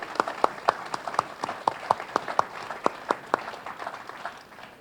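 Scattered, sparse hand claps ring out one by one in an irregular rhythm at a journalists' book launch, fairly close and moderately loud, fading slightly toward the end.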